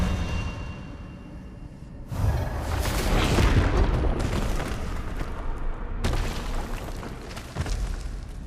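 Expelliarmus spell effect in the video game Hogwarts Legacy: loud, dense magical blasts burst in twice, a rumbling crackling surge that holds for several seconds before a second booming strike near the end.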